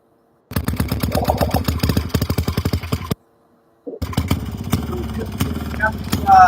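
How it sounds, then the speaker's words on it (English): Bike with a Maytag engine running: a rapid, sharp popping putter at an even rhythm that cuts out briefly, then restarts rough and loud with more clatter. "Maytag engine on it."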